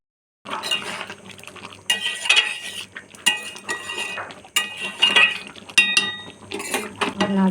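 Pot of potato curry lifted off a home kitchen stove, with metal utensils clinking and scraping against cookware in irregular bursts, close and moderately loud.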